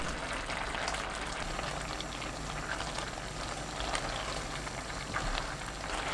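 Young radish greens simmer in a pot of shallow broth over high heat, a soft, continuous bubbling and hiss, faint and steady throughout with no talk.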